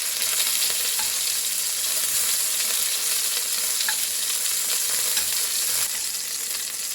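Beef chunks for stew sizzle steadily in hot oil in a pan, a continuous, close, bright frying hiss with faint crackles and no voices.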